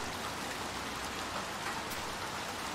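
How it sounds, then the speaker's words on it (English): Steady rain falls outdoors in the Little Nightmares 2 video game, a dense, even hiss of drops hitting surfaces that continues without a break at a moderate level with no voices. "Oh, poor guys, it's raining outside."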